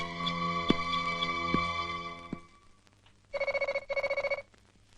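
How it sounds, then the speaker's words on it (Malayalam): A telephone rings in a Malayalam film scene: a sustained electronic bell tone fades out, then two rapid trilling rings follow after a short pause, fairly loud and close with no talk over them. "ഫോൺ."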